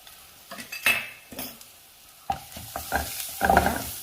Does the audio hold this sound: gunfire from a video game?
no